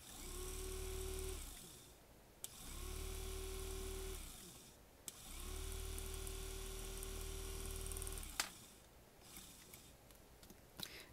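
A small DC motor driven through a MOSFET transistor whirs with a thin, steady whine in three separate runs with silent gaps between them, faint and close.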